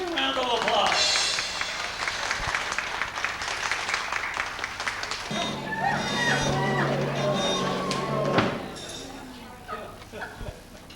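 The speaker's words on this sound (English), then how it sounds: "Would you please stand up here and everyone give him a round of applause?" Guests at a 60th birthday party applaud in scattered claps mixed with chatter and clinking, voices talking over much of it, the clapping loosening and fading toward the end.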